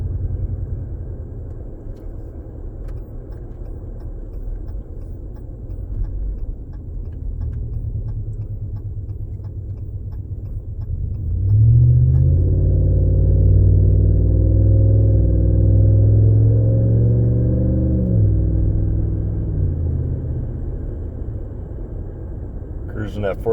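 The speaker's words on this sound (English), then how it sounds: "Cruising at 40 right now in 8-cylinder mode." A 2019 Ram 1500 5.7 HEMI with a muffler-delete exhaust cruises with a low, steady drone heard from inside the cab. Midway it grows into a louder, fuller rumble for several seconds before easing off, with talk running throughout.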